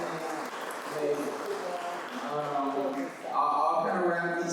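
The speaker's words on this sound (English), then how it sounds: "Can we get a round of applause for Paul?" Audience at an introductory disaster preparedness course claps for a presenter, a short burst of applause mixed with a host speaking over it, clapping swelling toward the end.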